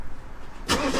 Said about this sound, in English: So I turn the car on.